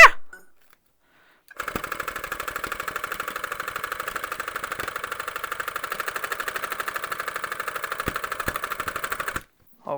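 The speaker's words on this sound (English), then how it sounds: "Rug tufting, take 1." A handheld tufting gun punches yarn into a rug backing in a fast, steady mechanical rattle that runs for about eight seconds, starting after a short pause and cutting off abruptly near the end.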